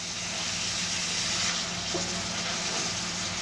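Loose meat for a Maid Rite sandwich cooks in a hot pan, giving a steady, close sizzling hiss that holds even throughout with no talking.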